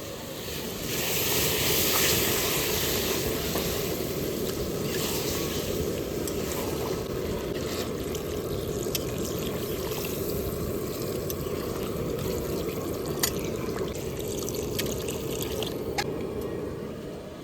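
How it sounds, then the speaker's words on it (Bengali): Water pours steadily into a pot of desi chicken curry, a dense, continuous rushing splash that holds at a constant level for the whole stretch, close up and with no speech. "কষানো হয়ে গেছে এবার জল দিয়ে দেবো"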